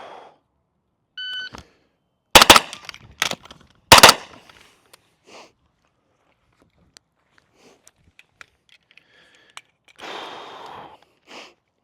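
Rifle fired during a timed reload drill on the move, with a few sharp, loud shots grouped early, then faint clicks and handling noises from the reload and a brief rustle, with no talk.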